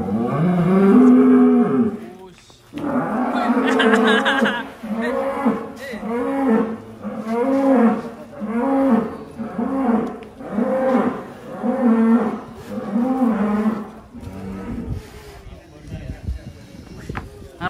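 Cattle at Akbar Farm, big sacrificial bulls, lowing in a long series of loud, close moos at a regular pace of roughly one every second or so, with people talking before the calls begin.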